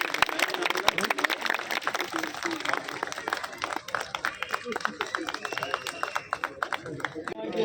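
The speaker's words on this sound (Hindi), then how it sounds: "तालियां बजाएं जरा, तालियों में कंजूसी मत करो यार" Audience applause at a Valmiki community gathering in a New Delhi neighbourhood: steady, dense clapping throughout with a few louder claps, a lively crowd sound heard alone.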